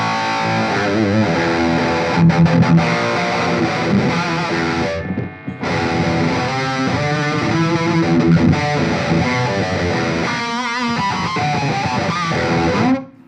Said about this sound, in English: this one can go all the way to high gain.